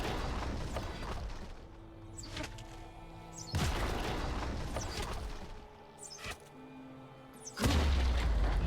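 An enemy turret is destroyed in League of Legends: Wild Rift, heard as a series of heavy booming impacts and crashing bursts separated by brief lulls, with the last blast the loudest.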